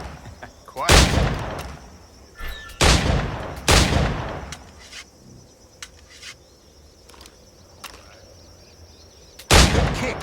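Firearms in Assassin's Creed IV Black Flag go off in several loud, sharp booms with long decaying tails, spaced a couple of seconds apart, while insects chirp quietly underneath.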